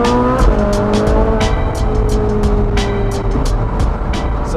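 Ferrari 458 Spider sports car cruising on the road, a steady close engine hum with shifting tones and rhythmic tapping bursts over it, no voices.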